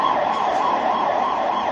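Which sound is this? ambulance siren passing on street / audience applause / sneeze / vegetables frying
ambulance siren passing on street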